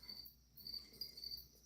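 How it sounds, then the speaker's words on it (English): Faint, steady chirping of a cricket indoors, a thin high trill held without a break and with no other sound over it. "there's a cricket in here."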